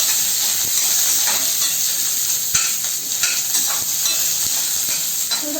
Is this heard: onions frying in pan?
yes